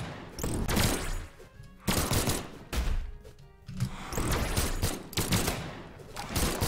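Guns blazing in the Brawlhalla fighting game, long loud volleys of rapid shots broken by short pauses, dense and close with heavy thumping hits mixed in.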